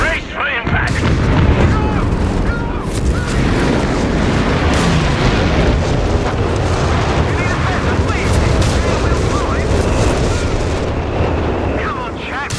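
Artillery barrage explosions in the video game Company of Heroes 3, a dense, continuous roar of booms and blasts that stays loud throughout, with battlefield chatter mixed in.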